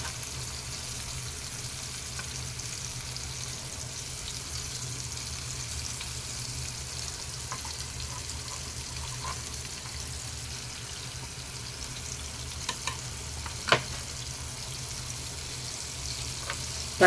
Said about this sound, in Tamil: இந்த மாதிரி 2 பக்கமும் நல்லா ஃப்ரை பண்ணி எடுத்தோம்னா சூப்பராக இருக்குங்க.